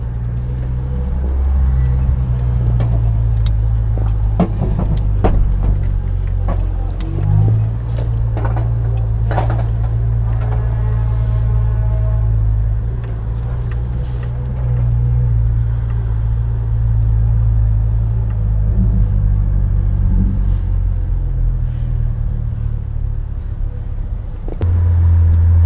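Cabin view of a car cruising on a road, either an Acura TSX or a Subaru STI: steady low engine and road rumble throughout, with occasional knocks and small interior rattles.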